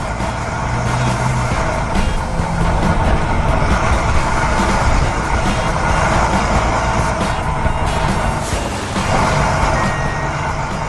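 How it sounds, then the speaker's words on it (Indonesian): An animated excavator scoops debris and loads it into a dump truck at a beach-house construction site: steady heavy engine rumble with clanking and scraping, continuous and loud, no voices. "Sekarang ekskavator mulai beraksi"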